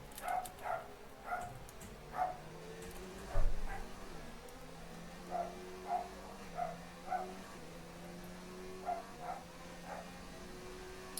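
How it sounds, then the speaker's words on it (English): A dog barks repeatedly in short, evenly spaced yaps, quiet and somewhat distant, over a steady low hum from an F1 2019 racing game. "Dudley is starting to bark, cheering on the McLarens."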